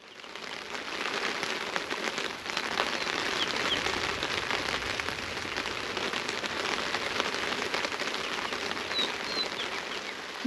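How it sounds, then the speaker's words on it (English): Steady rain during a thunderstorm at Camdeboo National Park in the Karoo, a dense continuous patter falling on surfaces, moderately close and unbroken throughout, with no voices. "It's raining at Camdeboo National Park. Actually, it's a thunderstorm."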